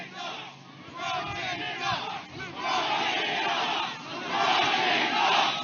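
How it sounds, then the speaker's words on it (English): A large crowd at a presidential campaign rally in Scranton, Pennsylvania cheers and chants loudly in surging waves, rising and falling throughout with no single speaker standing out. "What a crowd."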